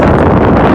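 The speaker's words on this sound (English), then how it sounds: "You guys say it's windy, it's very windy." Strong wind roars and buffets the microphone during a fast electric scooter ride in a windstorm, a loud, continuous low rumble filling the whole moment.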